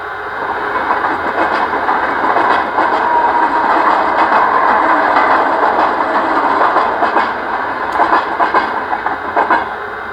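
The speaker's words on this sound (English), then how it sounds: "this one has the feature of a train passing by, so on the track next to it" Model railway sound module playing a train passing by on the neighbouring track, a steady loud rumble with rhythmic clickety-clack of wagons rolling past, continuous throughout with no talk.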